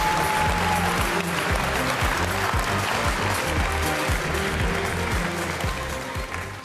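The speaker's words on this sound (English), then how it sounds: "Big applause." A large audience claps loudly and steadily at the Cisco Live 2025 conference in San Diego, with a low rhythmic music bed pulsing underneath throughout.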